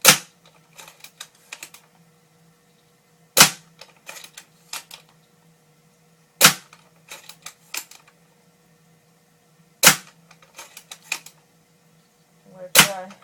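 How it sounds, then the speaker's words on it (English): An airsoft sniper rifle fires five sharp, loud shots spaced about three seconds apart. Each shot is followed by a few quick mechanical clicks as the bolt is cycled, and no one speaks. "This mag isn't full, but I'm just gonna shoot it."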